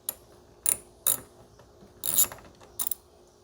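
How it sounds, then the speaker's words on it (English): A ratchet wrench with a 10mm socket loosening brake light bolts gives four short, close clicking bursts spread across a few seconds, with one longer run of clicks in the middle and quiet between them. "I'm gonna be using a 10mm socket to remove these bolts here"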